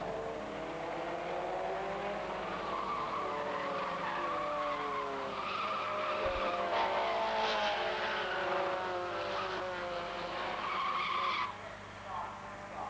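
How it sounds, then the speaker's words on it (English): A saloon race car in the 1990 British Production Saloon Car Championship skids and spins sideways on the track, with long wavering tire squeals and engine noise building and then cutting off abruptly near the end, under a commentator's voice. "taps the back end of Ray McDowell, sending him spinning sideways and stopping in the middle of the track."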